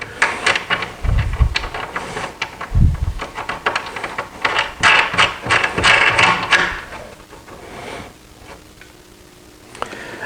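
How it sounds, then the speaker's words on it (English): A ratchet tightens bolts on an alignment cleat fitted to a cedar table, giving close, rapid bursts of clicking in uneven runs before trailing off into quiet near the end. "I'll go ahead and tighten these screws down, these bolts down"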